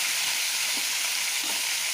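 Chopped onion slides into hot oil for an onion pickle, giving a steady, even sizzle with bright hiss throughout, close and moderately loud, with no voices.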